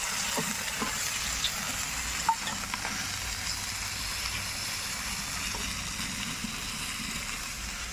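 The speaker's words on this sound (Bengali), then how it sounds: "ভালো করে জাল দিচ্ছি রসুন বাটা তারপর দিয়ে দেবো জিরে গোটা জিরে বাটা কাঁচা লঙ্কা" Garlic paste, whole and ground cumin and green chillies frying in a pan for a fish curry give a steady, close sizzling hiss with faint stirring clinks, without talk.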